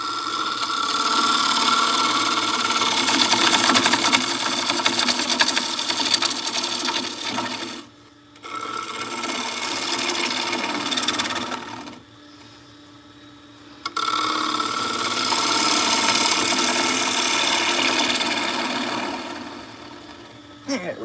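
A wood lathe turns with a steady whirring hum, cutting out briefly twice before spinning back up, with faint talk at times.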